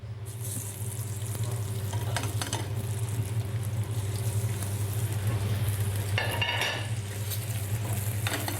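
Salmon fillet frying skin side down in a smoking-hot non-stick pan with a little olive oil, giving a steady, loud sizzle and crackle throughout with occasional sharper spits and bursts.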